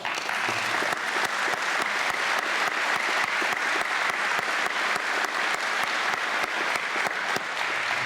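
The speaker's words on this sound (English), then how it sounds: "let's give them a round of applause" Sustained audience applause at an adult education commencement ceremony, many hands clapping steadily and evenly for the full stretch with no voices over it.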